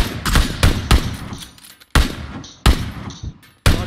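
Bursts of gunfire in the PUBG battle royale game, several sharp loud shots in an irregular rhythm with short gaps and ringing tails, no talking.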